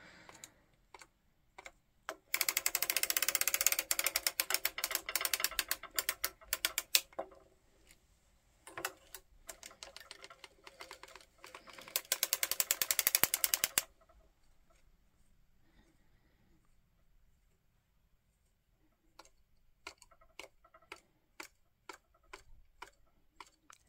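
A circular sock knitting machine being cranked while flat panel knitting a coin purse, giving rapid, dense mechanical clicking and ticking in long runs, then pausing and resuming as sparse, evenly spaced ticks.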